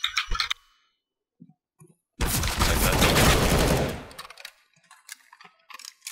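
Sustained burst of gunfire from a video game match, a dense loud volley lasting under two seconds, with scattered clicks and quiet gaps before and after.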